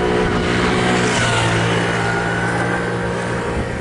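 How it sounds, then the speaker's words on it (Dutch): Cars drive past in a parking garage, a loud continuous engine rumble and tyre roar filling the echoing space without a break. "Dan wacht ik die auto's."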